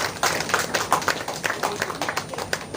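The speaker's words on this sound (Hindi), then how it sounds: "एक बार आप तालियां बजा दीजिएगा।" Audience clapping at a Hindi kavi sammelan poetry gathering, a steady patter of many hands for a few seconds, moderately loud and fairly close, with no talk over it.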